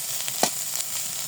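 Grated potatoes fry in a pan with a soft, steady sizzle and one brief louder scrape of stirring, heard close by with no voices.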